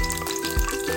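Garlic frying in a pan for an Ilocano soup, a short steady sizzle with a faint bump partway through and a constant background hum.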